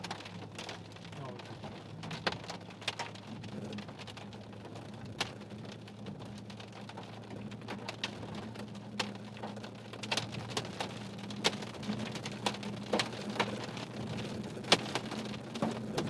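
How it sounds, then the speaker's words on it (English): Rain and scattered hail strike hard surfaces during a severe thunderstorm, a steady wash of rainfall punctuated by sharp irregular ticks and cracks of impacts, fairly faint and distant-sounding throughout. "Why does it hurt to hear hail hitting?"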